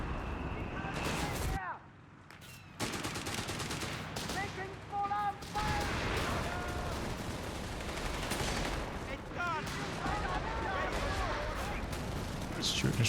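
Gunfire and explosions crack through a busy Company of Heroes 3 battle, a grenade launcher among the repeated rapid bursts and booms, while a voice talks over the din.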